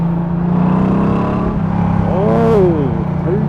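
Honda Valkyrie Rune six-cylinder motorcycle engine running close by, a steady low rumble that swells into a rev near the end, with a voice speaking over it.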